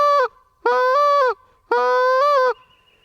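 A short reed goose call blown to imitate a goose gives three loud, close honking notes, the first brief and the next two drawn out, each flipping in pitch, with quiet pauses between.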